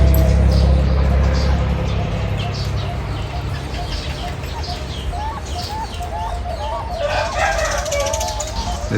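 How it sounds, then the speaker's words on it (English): A chicken crows at a Thai bird farm in Nakhon Nayok, the crow coming late and moderately near over a bed of other bird chirps and outdoor ambience. "It was a chicken."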